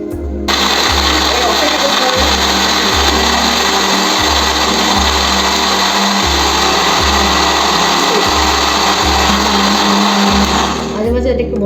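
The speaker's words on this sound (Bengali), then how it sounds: "এবার এটাকে আমি ব্লেন্ড করে নেব" A blender whirring through mango lassi made with mango, sugar and yogurt, a loud continuous motor roar that stays close and steady with short pulsing variations, running alone for nearly the whole stretch.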